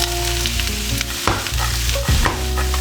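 Chopped ingredients go into a hot pan and burst into loud, close sizzling, with stirring scrapes and clatter breaking through the continuous frying hiss.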